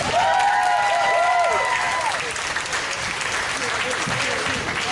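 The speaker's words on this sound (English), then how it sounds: "So let's give them a big round of applause." An audience at a Superman fan Q&A panel bursts into loud, sustained applause with scattered cheers and whistles, the clapping holding steady and only slightly thinning toward the end.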